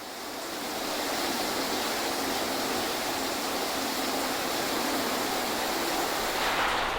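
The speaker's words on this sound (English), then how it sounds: "some of which now contain some small waterfalls, as you'll probably hear as we get closer" Small waterfalls pour down shafts inside the entrance tunnel of the abandoned Croesor slate mine, a constant hissing rush of water that swells slightly and stays loud and unbroken, with no voices.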